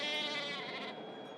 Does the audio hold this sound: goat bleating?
yes